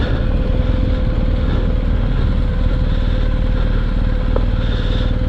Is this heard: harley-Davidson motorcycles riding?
yes